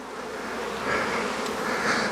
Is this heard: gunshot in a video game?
no